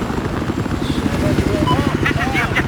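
A small military helicopter in a video game whirs steadily with a low, pulsing rotor throb, while game radio chatter and a voice talk over it.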